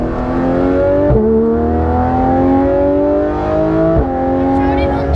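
A Porsche GT3 RS with Dundon race headers and a full exhaust drones loudly from inside the car on a paved road, its engine note rising steadily through the gears with two brief shift dips, unbroken and without speech.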